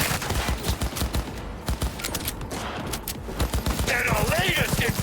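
Rapid sniper and automatic gunfire in Cyberpunk 2077 cracks in dense, loud bursts throughout, with a voice speaking over the shooting.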